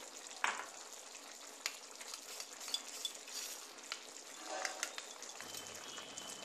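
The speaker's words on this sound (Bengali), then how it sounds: "2 চামচ ময়দা মিশিয়ে ভালো করে মিশিয়ে নেব।" A spoon stirs two spoonfuls of flour into milk in a bowl for a Bengali shukto, making soft, steady scraping and light clinks against the bowl, close up and without speech.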